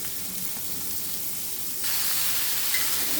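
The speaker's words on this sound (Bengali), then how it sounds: "এখন ফুলকপি এবং মশলাগুলো ভালোভাবে এভাবে কষিয়ে নিতে হবে।" Cauliflower and spices frying with shrimp in oil, a constant close sizzling hiss that grows louder partway through as the pan is stirred, with no voices.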